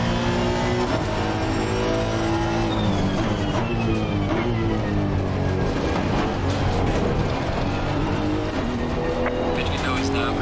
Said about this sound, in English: Turn down the engine a bit.